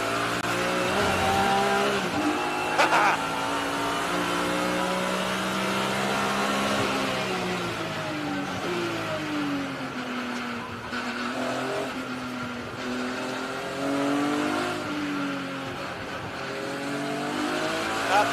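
Race car lapping a circuit, its engine droning loudly and steadily throughout, pitch rising and falling through gear changes and corners, with brief tire squeal; heard close from onboard with no talk.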